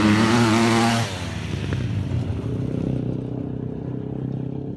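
An enduro motorcycle engine runs loud and steady at close range, a harsh buzzing drone that eases slightly after the first second and then holds an even idle-like throb.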